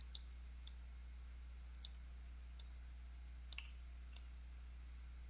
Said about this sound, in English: Just wherever you see a stone, left click and drag.